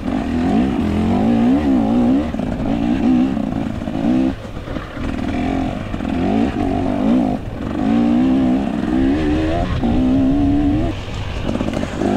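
A 2024 KTM 300 dirt bike in a hare scramble race at Oak Ridge revs hard after spinning its tire in first gear, a loud, close two-stroke engine rising and falling in repeated bursts throughout.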